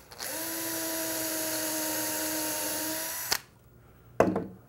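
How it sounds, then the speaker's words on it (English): A small brad point bit drills a pilot hole into a wooden cabinet face frame: a close, steady high-pitched whine lasting about three seconds, then it cuts off, followed by a single sharp knock. "pre-drill these too. I'm just using a small brad point bit."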